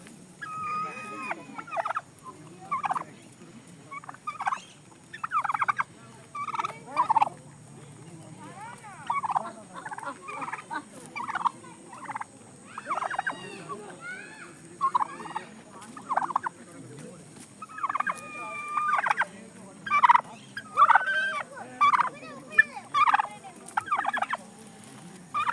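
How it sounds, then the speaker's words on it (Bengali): Several large white turkeys in a park give repeated bursts of gobbling, one after another and fairly close, with quiet gaps and faint background noise between the calls. "এইখানটায় দেখুন বেশ কয়েকটা সাদা রঙের টার্কি মুরগি আছে"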